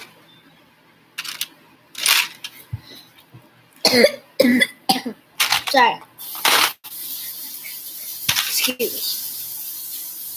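Several harsh coughs in short bursts, close to the mic, with some throat noise and brief pauses between them, from someone whose eyes water as they cough.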